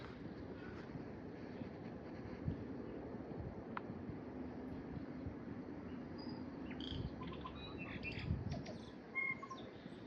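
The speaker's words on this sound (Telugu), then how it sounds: "సౌండ్స్ వినిపిస్తున్నాయండి బర్డ్స్వి" Birds in a park in New Zealand give faint, scattered chirps and tweets over a low outdoor hum, distant and quiet.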